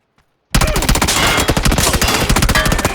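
Video game gunfire: after a brief silence, a sustained burst of loud, rapid automatic shots erupts and continues without pause for nearly three seconds.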